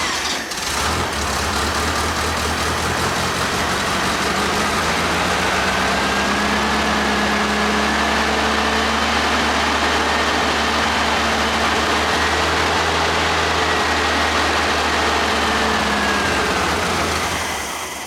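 A 1975 Volkswagen Super Beetle engine, left sitting for 20 years, idling steadily after starting: a loud, close, continuous air-cooled rumble with a faint whine that rises and falls slightly.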